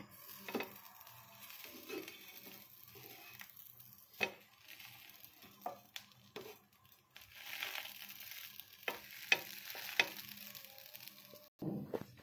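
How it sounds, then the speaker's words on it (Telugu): Slices of bread toast in a pan for a homemade bread pizza, a quiet, close sizzle broken by scattered scraping and tapping as the pieces are moved and turned, with no talking. "బ్రెడ్ ఇట్లా కొంచెం బ్రౌన్ అయ్యేవాకి చేసుకోవాలి."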